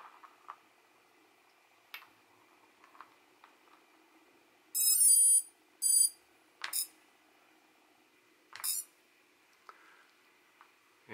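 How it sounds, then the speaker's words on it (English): A Racerstar 22A 32-bit ESC emits short bursts of high electronic beeping tones while its motor direction is reversed, with a few quiet clicks and ticks between the beep groups in an otherwise quiet room. "These tones are kind of unusual. They don't sound anything like a BLHAL ESC at all, because it's not proprietary firmware."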